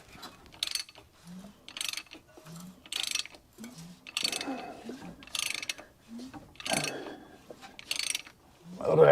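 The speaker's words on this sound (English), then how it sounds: "Motor actually spins over really nice and easy." A 1982 McLaren Mustang engine is rotated by hand after sitting for 30 years, producing a repeated series of ratcheting mechanical clicks and clunks at a steady rhythm, fairly close, with brief low murmurs between turns.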